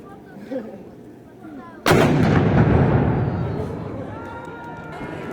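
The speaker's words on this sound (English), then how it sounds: "We just heard the midday cannons fire at the fortress." A midday cannon fires at the Peter and Paul Fortress in St. Petersburg, one sudden loud boom that rolls into a long echoing rumble across the open city, with faint crowd noise beforehand.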